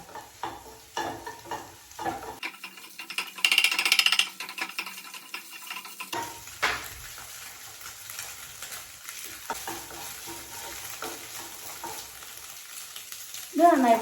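Beans frying in a pan with spatula stirring and scraping, the sizzle rising and falling in uneven bursts with brief quieter gaps and a sharper clatter near the end.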